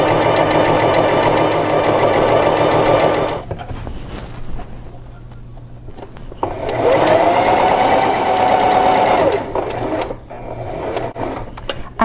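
A sewing machine runs a zigzag stitch through fabric in two loud, steady bursts of a few seconds each, with a short quieter pause between them and a brief stop near the end.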